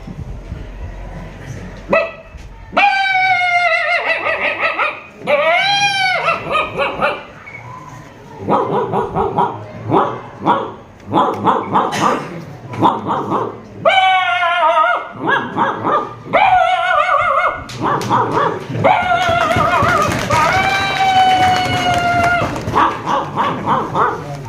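Dogs bark repeatedly in bursts, with yips and whimpering whines between, loud and close, continuing throughout.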